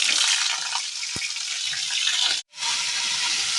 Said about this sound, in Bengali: তেল গরম হয়ে গেছে, আমি ফুলকপিগুলো এর মধ্যে দিয়ে দেবো